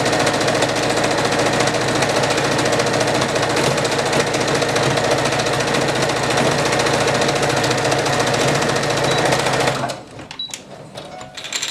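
Sewing machine stitching a half-inch seam on an heirloom dress, a close, loud, rapid mechanical whir running steadily for about ten seconds before stopping, followed by quiet handling sounds.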